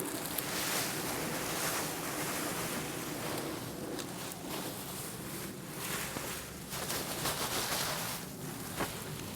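Dry leaves being added to a compost pile, a close, crinkly rustling and crunching that comes in uneven bursts over a steady outdoor hiss, with no talking.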